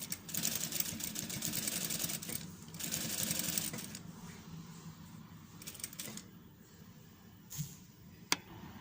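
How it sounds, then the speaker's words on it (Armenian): A sewing machine stitches decorative seams on a cardigan in contrast thread, running in rapid mechanical bursts that pause and restart, fairly quiet and close, with a few sharp clicks near the end. "ես կարում եմ կոնտրաստ գույնով"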